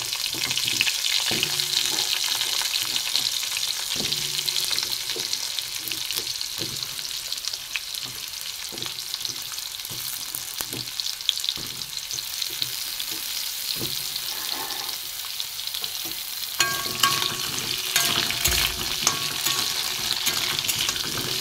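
Potatoes frying in oil with five-spice in a pan, a loud continuous sizzle with intermittent stirring clatter and scrapes, close and unbroken for the whole stretch, no talking.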